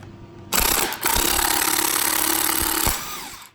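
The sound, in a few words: impact wrench driving puller bolts on steering wheel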